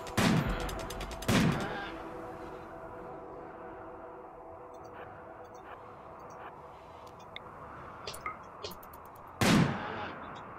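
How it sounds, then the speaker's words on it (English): Gunfire in the video game RimWorld as colonists shoot at a grizzly bear: a few sharp, loud shots at the start and near the end, with fainter pops and clicks between them. "Shoot that thing dead."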